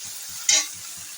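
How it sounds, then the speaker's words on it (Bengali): Red amaranth greens frying with garlic in a pan give a soft, faint sizzle under steady rhythmic stirring scrapes, with one brief sharp clink in the middle. "দেখতে পাচ্ছেন আমি লাল শাকটা ভাজা করছি রসুন দিয়ে"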